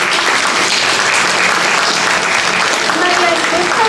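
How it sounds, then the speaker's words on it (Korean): Audience applause at a Korean choir's anniversary award ceremony, dense steady clapping from a large crowd that sustains loudly for the full duration. "네, 큰 박수."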